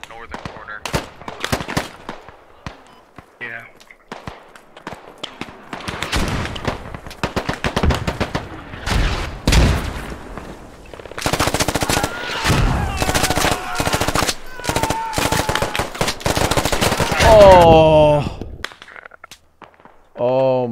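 Heavy machine gun fire in the video game Squad crackles in long rapid bursts, loud and close, mixed with other gunshots while players talk over the racket.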